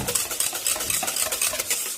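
Homemade sweet almond oil body cream stirred in a bowl, giving a close, continuous wet scraping and clinking of utensil against the sides with no talking.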